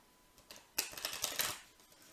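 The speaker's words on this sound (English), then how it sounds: "let's see what they're like for riffle shuffling" Tarot cards riffle-shuffled by hand: a soft flutter begins, then a dense, crisp burst of rapid card snaps lasting under a second and tapering off, close to the microphone with no one speaking.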